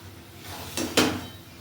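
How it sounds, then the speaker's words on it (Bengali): Marinated chicken pieces drop into a pan of cooked spice masala for a potato chicken curry, two quick soft thuds with a faint clatter, close and alone over a low background hum. "এবার মাংসটা দিয়ে দিচ্ছি।"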